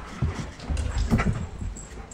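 Dogs whimpering and whining close by, a few short soft cries over an indoor background with no speech.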